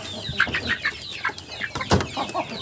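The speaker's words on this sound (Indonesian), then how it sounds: "Ini ayam yang kurang sehat nih" A sick chicken in a coop clucks softly in short, irregular bursts at close range, fairly quiet and alone.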